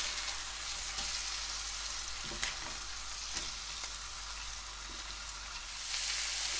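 Squid frying on a hot griddle gives a steady, dense sizzle that fills the whole clip, with a few sharper pops and crackles over it and no talk.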